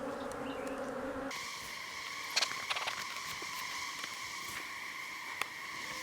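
Honey bees buzzing around a hive during a new queen introduction, a dense, steady drone of many wings close by, with a few faint clicks and taps and no talking.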